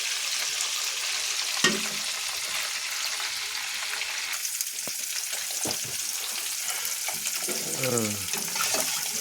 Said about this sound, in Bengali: পানি দেওয়া হয়ে গেছে